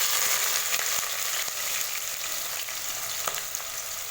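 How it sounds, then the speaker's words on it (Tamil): Green chillies fry in oil with a steady, dense hiss and crackle close by, broken by faint occasional taps and stirring, and no voice is heard. "பச்சை மிளகாய் பாத்தீங்கன்னா நல்லா எண்ணெயில வதங்கிடுச்சு"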